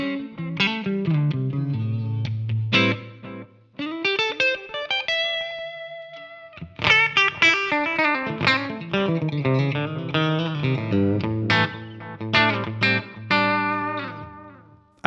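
Electric guitar with Dr. Z amp tones played through a Kemper with reverb: loud, distorted chords and riffs with ringing sustained notes, a short pause midway, then busy strummed and picked passages, no voices.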